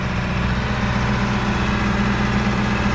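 A John Deere 2510 tractor engine runs at high RPM after a cold start, producing a loud, steady, continuous low drone with no breaks.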